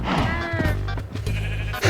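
Minecraft sheep bleat in a wavering, nasal call close up, followed by a couple of shorter game noises and another bleat starting at the end.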